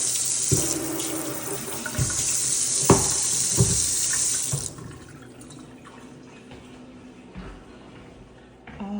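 Water runs steadily from a kitchen tap near a dishwasher, a close, strong hiss with light clatter mixed in for several seconds before it shuts off and quieter room sounds remain.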